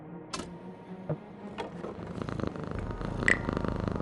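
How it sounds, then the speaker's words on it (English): A cat purrs in a video game scene. The purr is a steady low rumble that grows stronger in the second half, with a few sharp ticks and clicks early on and no speech. "There's a cat by an open window up there."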